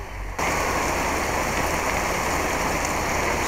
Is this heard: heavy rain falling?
yes